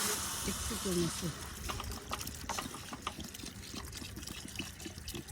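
Water from a bottle splashes into a cooking pot for lakeside khichuri, a soft steady pour and trickle heard faintly beneath nearby people talking outdoors.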